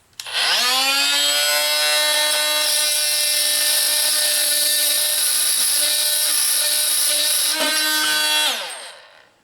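A Hitachi CV18DBL 18-volt brushless oscillating multi-tool cutting something off flush, a loud, steady high-pitched buzzing whine that starts abruptly, holds evenly for about eight seconds with a brief dip near the end, then winds down.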